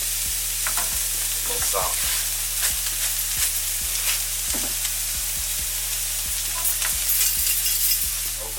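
Onions and peppers sizzle steadily in a hot pan while being stirred, with a continuous frying hiss and repeated scraping knocks of the utensil, close up, under a brief spoken remark.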